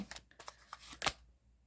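Tarot cards being shuffled by hand in a quick burst of riffling, soft flutters building to one sharp louder riffle near the end, close and alone with no talking.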